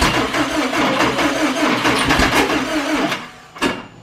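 A car engine cranks over repeatedly after a spark plug check, loud and close with a steady churning rhythm for about three seconds, then falters and catches in a short burst near the end.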